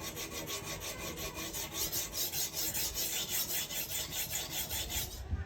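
A knife blade is pushed back and forth across a stone on a Hapstone guided sharpener, giving a steady rhythm of close, gritty rasping strokes with no talk.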